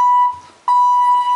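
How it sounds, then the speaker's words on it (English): A ThyssenKrupp hydraulic elevator's alarm buzzer sounds loud and steady, a single tone that cuts out briefly and then resumes at full strength. "That buzzer's bad."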